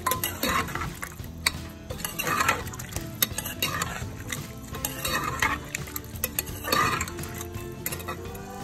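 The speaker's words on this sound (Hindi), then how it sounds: "इसको कर देंगे फिर से अच्छे से मिक्स" Fennel powder stirred into a tangy Kashmiri lotus stem gravy, with a ladle clinking and scraping against the pot in an irregular rhythm over a low background of bubbling.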